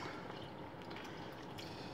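Water from a glass poured into a smoothie blender holding watermelon, a steady close splashing trickle that runs continuously for about two seconds with no voices.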